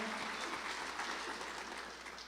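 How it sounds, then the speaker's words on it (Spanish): Church congregation applauding during a Sunday morning service, a steady broadband wash of clapping that holds evenly through the whole stretch without pauses. "dale un fuerte aplauso en esta mañana al Señor"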